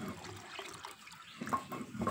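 Fresh cow's milk is strained and poured into a pot, making a faint, uneven trickle and splash of liquid that rises in short bursts near the end.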